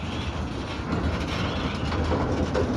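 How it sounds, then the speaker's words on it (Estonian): A train rolls along railway tracks at a railway crossing at a chemical industry site, giving a dense, continuous rumble with a rattling, clattering texture, steady and fairly close throughout the short stretch, with no voices. "Nojah, see ongi see rong,"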